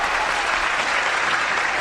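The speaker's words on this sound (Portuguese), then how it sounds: "Aumenta os aplausos aí" Dense, continuous applause from a crowd, loud and steady throughout with no break or voices standing out.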